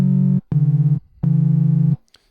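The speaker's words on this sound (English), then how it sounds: "just a little sine wave, but it's got a little bit of that analogy grit to it" A sine-like synth waveform with slight analog grit, played on Xfer Serum, sounds as three steady buzzy low notes, each held briefly with short gaps between, loud and alone with no talking.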